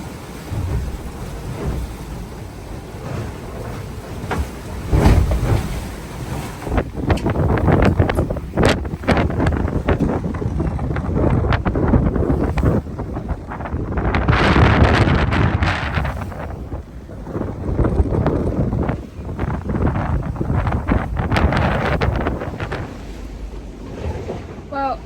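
A sailboat in about 35 knots of wind at sea, with a steady roar of gusting wind buffeting the microphone and waves crashing against the hull, loud and continuous throughout.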